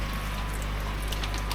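Water forced back through a pipe while purging a koi pond's moving bed filter, a steady, close gushing rush with constant low hum underneath.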